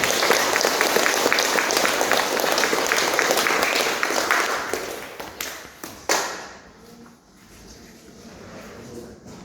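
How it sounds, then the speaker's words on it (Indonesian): A congregation applauds at a Catholic wedding in a church in Maumere, clapping loudly and densely for about six seconds before the applause thins out and fades into a quieter hall. "Mari kita berikan aplaus"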